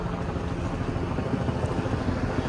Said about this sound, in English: Is that a chopper? What the hell?